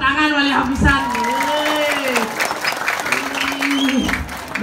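Clapping rises from an audience at a temple festival performance in Bali, sounding under a voice that talks and chants over it through most of the stretch.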